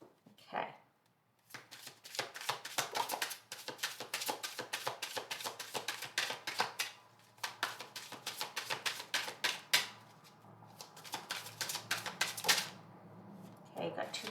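Tarot cards are shuffled and pulled in a dense, close run of rapid papery riffles and taps, coming in bursts with short pauses between them.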